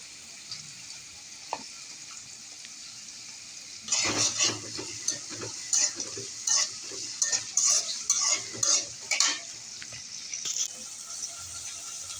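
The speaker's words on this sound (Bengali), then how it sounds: "পেঁয়াজটা ভালো করে ভেজে নিয়ে কিছু টমেটো কুচি দিয়ে দিচ্ছি" A spoon scrapes and clatters against a pan as chopped onion and tomato fry with cardamom and black pepper, a faint steady sizzle under rhythmic stirring knocks that start a few seconds in.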